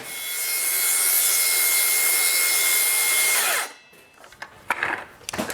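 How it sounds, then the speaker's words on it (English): A power saw cuts a slot into a two-car garage's concrete floor to inset hoses, a loud steady grinding roar for several seconds that abruptly stops, followed by quieter scattered clatter and rustling. "Cutting the slot"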